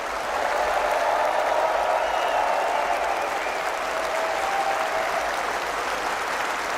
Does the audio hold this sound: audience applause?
yes